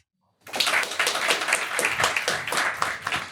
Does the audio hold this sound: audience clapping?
yes